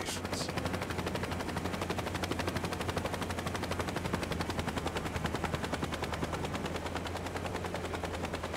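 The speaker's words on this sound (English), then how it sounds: "Helicopter's equipped with a magnet, strong enough to pick up Gordy's car." A helicopter in the Saints Row video game drones with a fast, continuous rotor chop, loud and unbroken throughout, with a brief higher burst at the very start.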